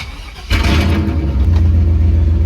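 A mud truck engine on 44-inch Bogger tires fires up abruptly and settles into a loud, rumbling idle with a slight rev, close by and without speech.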